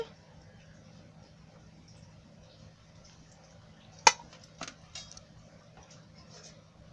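Mango sandan, a steamed Maharashtrian mango cake, is turned out onto a plate, giving one sharp knock followed by a couple of softer clinks against a quiet room background.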